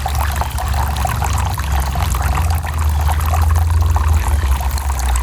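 Water pours steadily into a garden water dish near a gazebo, a continuous close splashing trickle with a low rumble beneath, no talking.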